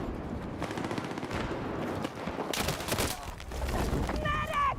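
Gunfire in a PC shooter video game: rapid bursts of automatic fire and sharp shots, loud and close, with a player's voice briefly audible near the end.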